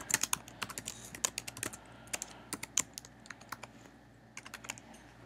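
Code typed on a computer keyboard, a quick close run of light clicking keystrokes in uneven bursts with short pauses, fairly quiet and with no talk.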